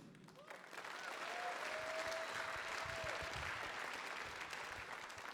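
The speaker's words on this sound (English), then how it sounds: "I hope you're not tired of clapping" Audience applause at the Revision 2017 demoscene party, a sustained wash of many hands clapping in a large hall, steady and even throughout, with a faint tone running beneath.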